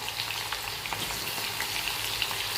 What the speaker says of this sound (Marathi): तेल मीडियम गरम झालं की यामध्ये आपल्याला कांदा जो आहे तो टाकायचा आहे